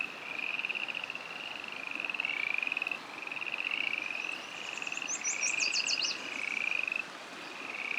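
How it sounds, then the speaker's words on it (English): A chorus of frogs croaks hard at a creekside pond along a forest hiking trail, with repeated trilling calls overlapping steadily under a constant wash of running water, loud and close. "you can hear the frogs going nuts down here."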